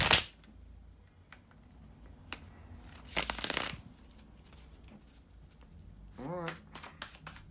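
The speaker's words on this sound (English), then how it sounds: "bear with me a second, guys, to shuffle the cards" Tarot cards get shuffled in quiet indoor surroundings, with a few short riffling bursts and soft taps standing out between pauses near the microphone.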